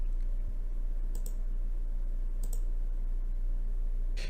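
A computer mouse clicks a few times over a steady low hum, with sharp, isolated clicks spaced across a few seconds and no talking.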